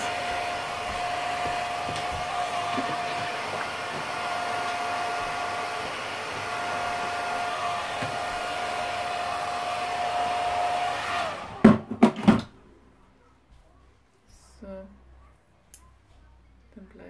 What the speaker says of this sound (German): Und den föhne ich jetzt ein